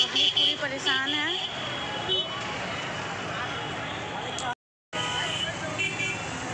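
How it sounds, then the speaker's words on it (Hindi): Heavy, jammed road traffic in Varanasi, with a dense roar of engines and a few short car horn toots early on, while people talk over the street noise near the recorder. "बहुत ज़्यादा ट्रैफिक हो गया है"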